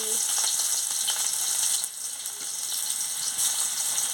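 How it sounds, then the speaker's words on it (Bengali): Chopped onion dropped into hot oil after frying Murla fish, giving a loud, steady sizzle that fills the whole stretch with a brief dip midway and no talk. "তেল গরম হয়ে গেছে আমি পেঁয়াজ কুচিটা দিয়ে দিচ্ছি"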